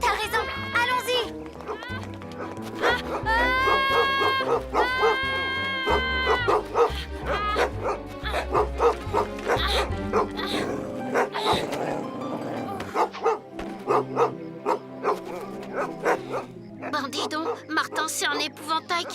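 Cartoon dog barking and yipping repeatedly in quick bursts, up close, with whimpering pitched sounds, mixed with cartoon voices talking and background music.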